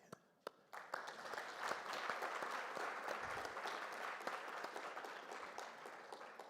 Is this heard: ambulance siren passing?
no